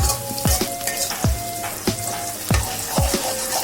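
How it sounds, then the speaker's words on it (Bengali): Minced garlic frying in a pan, a steady sizzle broken by regular scraping strokes of stirring, about one every half second, close and clear with no talk. "তার মধ্যে দিয়ে দিচ্ছি রসুন কুচি"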